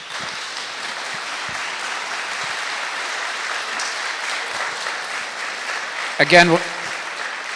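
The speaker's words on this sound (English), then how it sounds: "I'm going to ask you again to please hold your applause till the end of the debate" A state senate debate audience breaks into sustained applause, a dense wash of many hands clapping that persists throughout, with a brief spoken word from the moderator near the end over the clapping.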